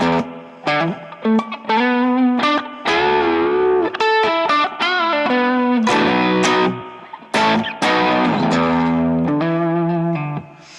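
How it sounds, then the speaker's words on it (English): Distorted electric guitar through a Vox patch with spring reverb, playing chords and short riffs with a wet, splashy reverb tail, loud and continuous with brief pauses. "have a patch with my Vox where I've got a nice spring reverb on it"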